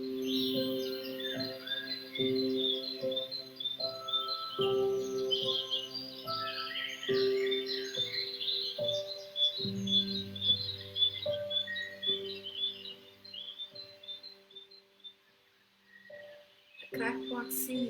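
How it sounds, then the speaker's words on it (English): Small birds chirping outdoors, repeated bright high tweets in quick bursts over a steady lower hum, fairly close, fading briefly near the end before a final burst. "There are birds chirping."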